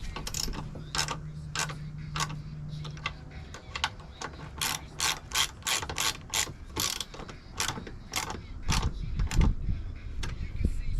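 A ratchet wrench tightens a coilover on a BMW E46 wagon, giving off quick bursts of sharp, close clicking with brief pauses between strokes.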